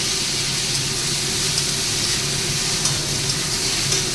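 Radish pieces fry slowly with salt in a pan, giving a steady, even sizzle and hiss that holds close and alone for the whole stretch, with no voices over it.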